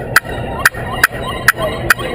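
Five short, crisp turkey clucks from a hand-crafted pot call, spaced evenly about half a second apart against a faint background hum.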